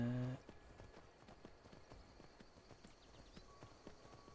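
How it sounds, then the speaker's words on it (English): Rapid clip-clop of a horse's hooves galloping steadily in The Elder Scrolls V: Skyrim, fairly close and moderately loud, with a brief louder burst at the very start. "That's my horse Frost, by the way."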